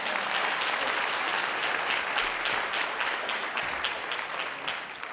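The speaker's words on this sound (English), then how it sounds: "give yourselves a round of applause" An audience at an educator symposium keynote claps steadily throughout, a dense wash of applause from many hands, fairly close and even in loudness.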